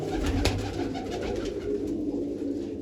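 Pigeons cooing in low, soft murmurs amid a busy, rustling background, steady throughout with no voices.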